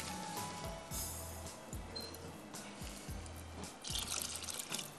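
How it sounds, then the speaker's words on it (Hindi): A little water goes into a pan of green masala rice pulao, with soft drips and trickles over a steady kitchen hiss and a few low knocks. "थोड़ा सा पानी डालूंगी, पानी है इसमें लेकिन थोड़ा सा जाएगा।"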